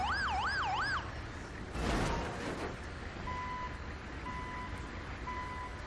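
A GTA 5 ambulance siren wails loudly for about a second, then cuts off under a burst of rushing noise, followed by faint, evenly spaced electronic beeps.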